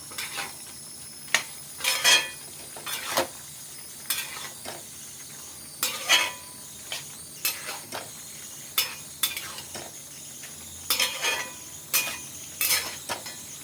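A spoon stirs a cooking dish in a pan after rice flour has been sprinkled in, scraping and clinking against the metal in repeated close strokes over a faint background.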